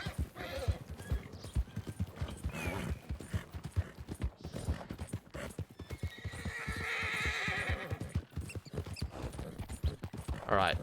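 A horse gallops in Red Dead Redemption, with fast, rhythmic hoofbeats pounding close and loud throughout, a whinny breaking through, and light background game ambience underneath.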